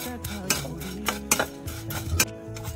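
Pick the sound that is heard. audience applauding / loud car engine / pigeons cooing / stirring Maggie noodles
stirring Maggie noodles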